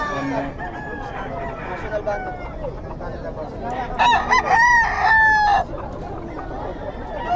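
At a chicken market, several roosters crow over a constant background of clucking hens, with crows overlapping loudly near the middle.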